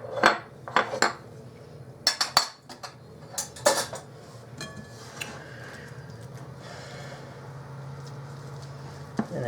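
Softened butter is worked into scallion, chive, garlic and cheese roll dough in a bowl, heard as a burst of utensil clinks and knocks followed by quieter steady mixing, close with no talk.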